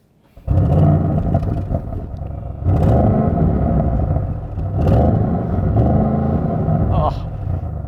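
An Audi RS6 engine, already warmed up, fires into a deep burbling idle, then swells through several loud revs separated by brief dips, close by and dominating.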